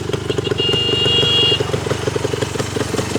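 A 1973 Yamaha DT3 250 Enduro, a classic street-legal two-stroke trail bike, runs with a steady, close, rapid putter, and a brief thin whine rides over it partway through.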